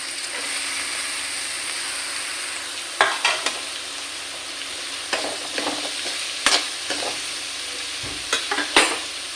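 Onions fry with a constant sizzle in a pan, while sharp scraping and clattering stirring strokes come in bursts, sounding close and fairly loud.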